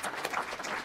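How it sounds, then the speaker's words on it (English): Audience applause at a live question-and-answer event, a dense steady patter of many hands clapping throughout, moderately loud and close with no speech over it. "Big round of applause."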